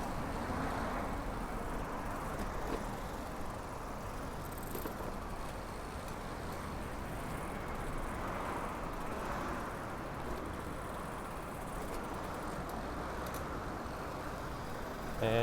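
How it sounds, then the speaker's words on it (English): Busy road traffic in Kyoto, a steady broadband rumble of passing cars and trucks with engines idling nearby, continuous and fairly loud throughout, with faint voices now and then. "Oh man, this road is quite busy."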